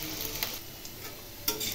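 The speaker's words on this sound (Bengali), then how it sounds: "তেলে ভেজে নেব।" Diced potatoes fry in hot oil with a steady close sizzle, with soft stirring clinks and a brief louder crackle near the end.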